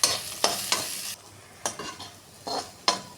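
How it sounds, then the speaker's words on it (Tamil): Ginger and garlic sautéing in a pan, with a steady sizzle broken by several sharp scraping stirs of a spoon against the metal, close and clear, with no talking. "இப்போது இஞ்சி பூண்டு, பூண்டு இதை வதக்கி எடுத்துப்போம்."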